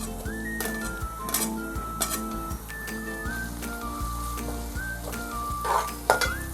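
Garlic sizzles as it drops into frying onions for a dry Bombay duck curry, a close steady hiss with occasional clinks and stirring scrapes, and no talking.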